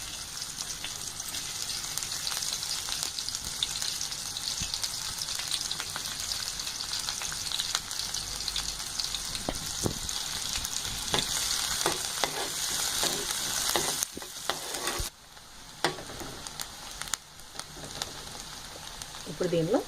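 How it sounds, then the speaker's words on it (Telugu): Chopped onion pieces fry in hot oil in a pan, a dense, rain-like sizzle running throughout with scattered pops and occasional stirring scrapes, dipping briefly before continuing. "ఇప్పుడు కాగిన నూనెలో కట్ చేసి పెట్టుకున్న ఉల్లిపాయ ముక్కలు వేసుకొని ఫ్రై చేసుకోవాలి."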